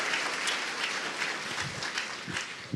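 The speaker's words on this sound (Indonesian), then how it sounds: "Luar biasa, kita berikan aplaus untuk yang hadir semua." A studio audience at an Indonesian talk show applauds, a dense steady wash of many hands clapping together, close and sustained throughout.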